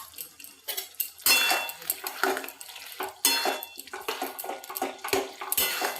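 Chopped tomatoes go into a pan of banana flower mochar ghonto, a vegetarian Bengali dish, with repeated loud metallic scrapes and clatter of a spoon against the pan over a light sizzle, up close and with no talking.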